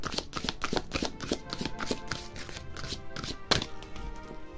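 Christmas-themed tarot-style cards are shuffled by hand in quick riffling bursts, crisp and close, with a sharper snap near the end and no talk over it.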